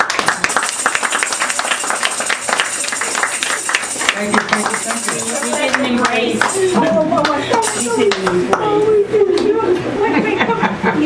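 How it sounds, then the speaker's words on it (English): A banquet audience claps for a performing group, a dense burst of applause at first that gives way to chatter, chuckles and the clink of dishes and cutlery, with voices talking over it. "let's have a big round of applause for Sisters of the Desert"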